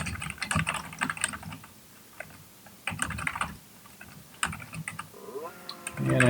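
Fingers type code on a computer keyboard in quick bursts of close, crisp key clicks, separated by short pauses.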